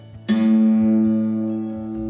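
Two guitar strings are struck together and ring out, sustaining and slowly fading over about two seconds, close and clear.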